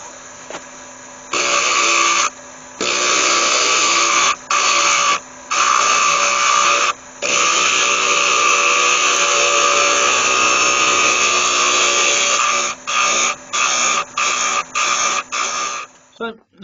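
A wood lathe turns the edge of a resin and yew lidded box while a tool cuts it. The loud, steady high whine keeps breaking into short gaps as the cuts start and stop, with a voice talking over it.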